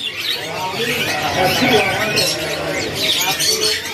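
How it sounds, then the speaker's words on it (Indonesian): Pelanduk semak bird for sale at a kiosk in Pramuka bird market, Jakarta, giving chirps and calls amid the busy market bustle, with people talking nearby throughout. "Pelanduk semak juga tuh udah jinak burungnya"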